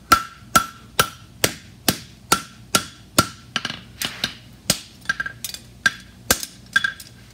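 A steel horseshoe, a fullered front shoe, being hammered on an anvil: a steady run of sharp ringing metallic blows, close and loud, with a quicker cluster of lighter taps partway through.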